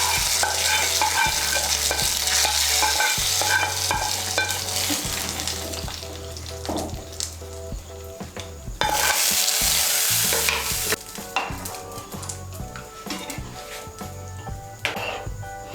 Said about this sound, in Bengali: এই ফোড়নটা এখন আমি ডালের মধ্যে ঢেলে দেব।